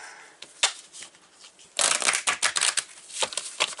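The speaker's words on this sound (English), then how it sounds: "oh, I remember this deck doesn't shuffle very well this way." A deck of playing cards being shuffled up close, with a few light riffles and snaps before a dense fluttering burst and some softer riffles at the end.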